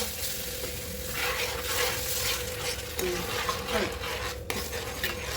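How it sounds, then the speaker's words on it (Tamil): Semolina kesari with pineapple juice and hot water is stirred in a hot pan, a dense, continuous scraping sizzle up close with a few light metal taps. "அப்புறம் இது ஃபுல்லா வதக்கணும். மிக்ஸ் பண்ணணும்."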